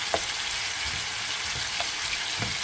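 Tomatoes sautéing in a pan: a steady, fairly loud sizzle with a few soft stirring scrapes at intervals and no voices.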